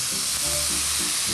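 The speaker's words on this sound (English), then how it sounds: "My sausage in, what you want that sizzle when you throw it down." Sausage sizzles in a hot skillet, a steady, close, bright frying hiss with no pauses and no voices.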